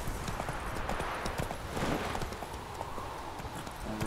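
Hooves of Roach, the horse in The Witcher, clip-clopping in a steady trot across the ground, close and continuous, with a faint background wash and no speech.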